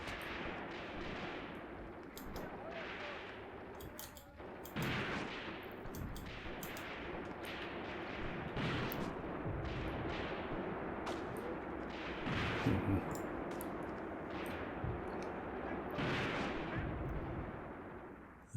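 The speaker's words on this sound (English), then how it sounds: "Seems like there's still fire coming in over here." Continuous gunfire and booming artillery fill a battle in the WWII tactics game Graviteam Tactics, set on the Luga Line near Peleshi, with repeated heavy thuds over a steady rattle of distant shots.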